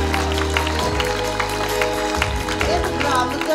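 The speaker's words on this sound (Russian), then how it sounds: "под ваши аплодисменты, друзья!" At the closing ceremony of an international theatre festival, an audience applauds steadily while music plays loudly underneath.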